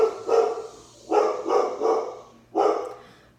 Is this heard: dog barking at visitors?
yes